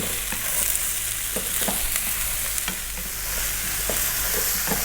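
Vegetable fried rice with mushrooms sizzling and crackling over high heat in a pan, a steady hiss of frying broken by repeated stirring scrapes, close and fairly loud with no talking.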